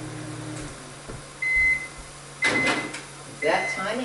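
A microwave oven beeps three times, evenly spaced about a second apart, with faint kitchen sounds in a quiet room.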